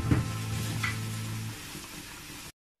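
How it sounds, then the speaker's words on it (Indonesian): Boiled stingray pieces going into a hot pan of curry, a loud sizzling burst that settles into a softer hiss before cutting to silence. "Kita masukkan ikan pari yang sudah direbus."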